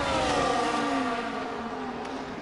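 A lapped race car in the F1 24 video game at the Monaco Grand Prix passes with a loud, high engine whine that sweeps steadily downward in pitch as it goes by.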